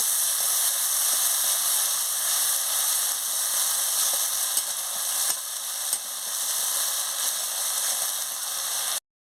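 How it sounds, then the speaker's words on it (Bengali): A spice paste cooking in a pan just after a splash of water, giving a steady, close hiss of sizzling with faint scrapes of stirring and no voices. "সামান্য একটু জল দিয়ে দিচ্ছি, মশলাটা ভালো করে কষিয়ে নেব"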